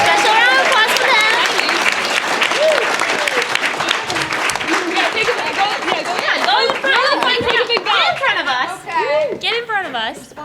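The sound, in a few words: audience applause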